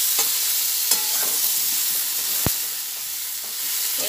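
Eggplant fries over a lowered gas flame, hissing in a steady sizzle while a utensil stirs and scrapes the pan now and then, close up and with no voices.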